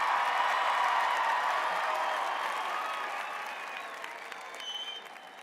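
University of Arizona graduates applaud at a commencement ceremony, a dense, sustained wash of clapping from a large crowd that slowly fades, with a few cheers near the end.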